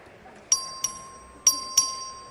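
A clerk rings the voting bell in the Texas legislature during a record vote, four sharp metallic strikes in two closely spaced pairs, each ringing briefly with a bright tone in a quiet chamber.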